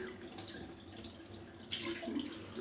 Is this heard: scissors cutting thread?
no